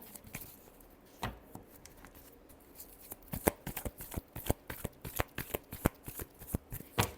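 Tarot cards being shuffled by hand, a steady run of crisp riffling snaps that start sparse and grow denser and louder toward the end, close and without talk.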